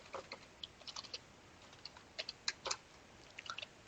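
Someone types on a computer keyboard while coding in React JS, giving quiet, close keystroke clicks in irregular bursts with short pauses and no talking.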